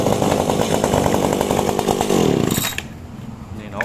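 A gasoline two-stroke chainsaw runs loud and close with a rough, buzzing engine note, briefly revving before the pitch drops and settles near the end.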